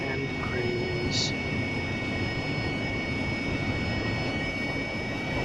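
AV-8B Harrier jet engine at full throttle in the DCS flight simulator, a loud steady roar with a constant high whine, unbroken through the whole stretch.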